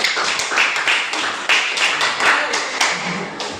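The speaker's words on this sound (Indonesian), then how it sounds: "tepuk tangan dulu kelompok 2" Students in a classroom applauding for a presenting group, steady overlapping hand claps at close range with a few sharper individual slaps standing out, loud and continuous from start to finish.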